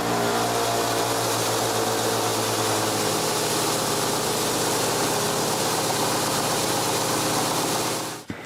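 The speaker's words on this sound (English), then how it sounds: "it's time to return to the sander" A power sander flattens the bottom of a carved wooden turtle with a loud, steady broadband whir that runs unbroken for about eight seconds and then cuts off abruptly.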